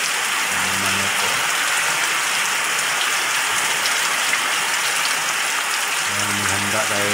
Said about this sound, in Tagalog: 9 ng umaga umuulan.